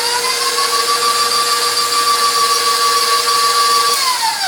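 A stand mixer motor hums with a steady, loud tonal whine as it kneads brioche dough at low speed, constant for several seconds before the pitch drops slightly near the end, with no voices.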